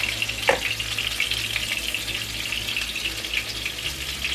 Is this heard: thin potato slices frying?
yes